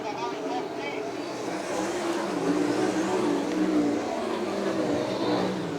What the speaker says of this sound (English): heat race action with the Great Lakes Super Sprints